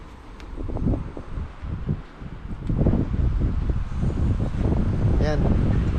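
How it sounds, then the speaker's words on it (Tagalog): Strong wind blows steadily outdoors near houses, a broad rushing roar buffeting the microphone and swelling in gusts, with faint voices talking underneath. "Lakas ng hangin."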